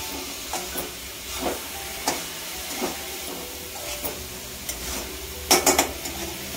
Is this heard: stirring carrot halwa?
yes